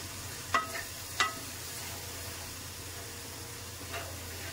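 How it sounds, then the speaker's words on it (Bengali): Tomato paste is stirred into a frying doi katla curry. A steady, close sizzle plays alone, broken by a few quick scraping strokes of the spoon. "এখানে টমেটো পেস্টটা দেওয়ার পর ভালো করে মিক্সড করে নেবো।"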